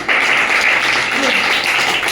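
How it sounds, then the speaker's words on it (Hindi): A classroom audience claps for a student during a children's science lesson on atomic structure: dense, continuous applause filling about two seconds, loud and close. "ताली बजाइए आप लोग"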